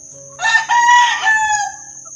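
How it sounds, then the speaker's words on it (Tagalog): A rooster gives one loud, close crow, rising then trailing off, over a steady low background hum. "So ang daming manok nila dito."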